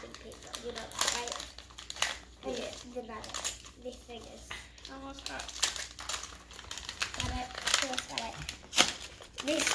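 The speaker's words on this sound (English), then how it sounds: "You can rip that part because this is wrapping paper" Wrapping paper on a birthday present is torn and crumpled in repeated bursts of crinkling and ripping, close by, mixed with people talking, including a voice.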